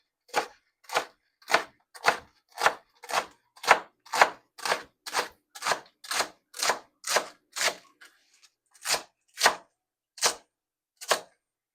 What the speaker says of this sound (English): And then I'm going to slice them thinly.